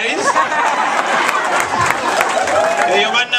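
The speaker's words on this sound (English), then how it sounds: "Can you clap for God, you guys?" Congregation after mass at the Uganda Martyrs celebration claps and cheers, a busy crowd wash of applause and chatter with scattered sharp claps, fairly close and continuous over the short span.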